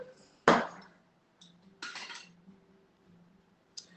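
Chopped nuts are mixed into banana bread batter in a home kitchen: a sharp clink of utensil against bowl, then a few softer scraping and knocking strokes separated by quiet gaps.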